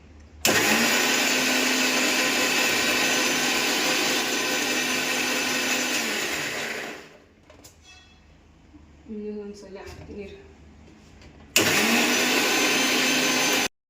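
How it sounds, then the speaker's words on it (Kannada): A mixer grinder whirring loudly as it grinds masala paste with a little water, running steadily for about seven seconds, pausing while a voice speaks briefly, then starting up again at full roar. "ಇವಾಗ ಮಿಕ್ಸರ್ಗೆ ಹಾಕ್ತಾ ಇದ್ದೀನಿ ಹಾಕಿದ್ದೀನಿ ಸ್ವಲ್ಪ ನೀರು ಹಾಕಬೇಕು ಅಂದರೆ ಸಣ್ಣಗೆಲ್ಲ ಮಿಕ್ಸ್ ಆಗಿಬಿಡ್ತದೆ"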